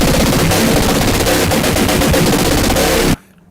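A synthesizer patch called granular yoy, with 8-bit character, blasts a dense, noisy, rapid-fire crackling texture for about three seconds before cutting off abruptly.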